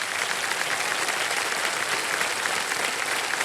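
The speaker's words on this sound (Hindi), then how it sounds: "ये ताली बज जाए इनके लिए" Studio audience on a TV quiz show applauding steadily, a dense, even wash of clapping that continues without a break and without speech.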